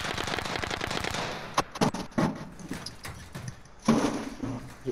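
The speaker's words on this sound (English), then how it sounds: "Somebody take a shot at me." Call of Duty Warzone gunshots aimed at a player ring out as sharp, separated cracks, a few single reports and a short burst, fairly faint against a busy game background.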